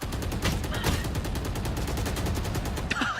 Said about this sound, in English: Pauses, he's letting the bullets whiz by.